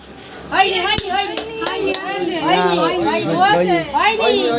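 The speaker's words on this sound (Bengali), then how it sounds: "সবাই হাততালি দাও হাততালি দাও" Several people clap hands together in a lively indoor family gathering with children, the claps mixed with overlapping chatter and a voice throughout.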